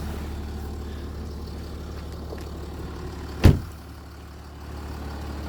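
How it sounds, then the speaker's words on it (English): A Jaguar XF engine idles smoothly and quietly at a steady low hum, with one brief sharp click or knock partway through and no talking. "Nice smooth engine."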